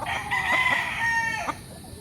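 A rooster crows once on a gamefowl farm in Tanauan City, Batangas, where stags and broodcocks are kept. The call is loud and close, a drawn-out crow of about two seconds, with faint farm background around it.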